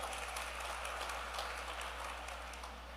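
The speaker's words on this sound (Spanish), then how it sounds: "dele un fuerte aplauso." Church congregation giving steady applause, a dense, even wash of many hands clapping at moderate distance with a low hum beneath, sustained for the whole stretch.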